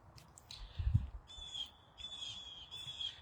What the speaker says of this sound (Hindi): कितने मज़े की आवाज़ है बर्ड्स की